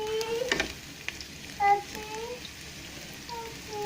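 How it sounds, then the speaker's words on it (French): Onions fry in a heated pan with a faint steady sizzle and occasional light stirring clicks. Low kitchen tones and one brief louder scrape sit underneath. "je vais commencer à mettre les oignons dans la poêle"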